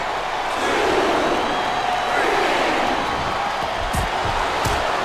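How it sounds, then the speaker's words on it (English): A large arena crowd roars in a steady, sustained cheer during an Elimination Chamber match in WWE SmackDown Vs. Raw 2007, with a few thuds and sharper bursts near the end. "Listen to the crowd, JR."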